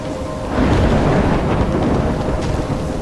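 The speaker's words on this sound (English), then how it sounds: "I'm trapped in a storm?" Thunderstorm in the video game Life is Strange: a steady, loud roar of heavy rain and rolling thunder that swells after a brief quieter start and holds as a dense rumble throughout, with no voices.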